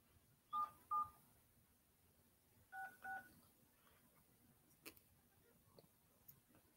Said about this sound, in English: You'll hear my phone beeping